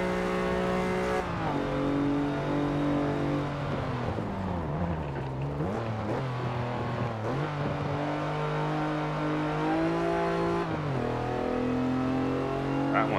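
Chevy Colorado pickup engine at full throttle in the racing video game Forza Motorsport 7: a loud, continuous droning roar with rising and falling revs and gear shifts, steady throughout with no talk.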